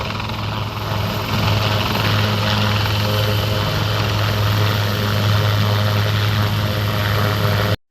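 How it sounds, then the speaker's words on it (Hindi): Military helicopters fly low over a stadium, their steady, loud rotor thrum and engine drone filling the air continuously before cutting off abruptly at the end. "जैसे हेलीकॉप्टर स्टेडियम में मौजूद लोगों के करीब से निकल रहे हैं"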